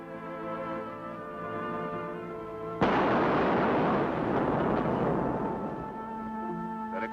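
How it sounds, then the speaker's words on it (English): A sudden loud explosion bursts in over a steady tonal hum, then a long roaring rumble of debris and fire that slowly fades. "That explosion took care of them."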